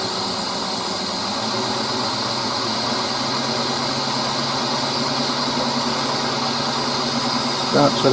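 A wood lathe runs at about 500 RPM while turning a wooden goblet, giving a steady, even motor hum and whir that holds throughout with a slight rise at the very end.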